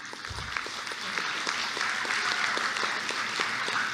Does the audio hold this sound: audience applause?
yes